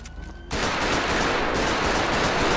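Rapid gunfire from a .40 pistol in the GTA video game breaks in after a short quiet lead-in, then goes on as a dense, loud burst of overlapping shots to the end.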